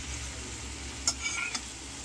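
Vegetable curry with gravy stirred in a pan for a vegetable cashew paneer biryani, a soft low sizzle with a few brief scraping clicks of the spoon, quiet and close with no talking.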